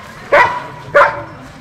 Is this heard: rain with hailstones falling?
no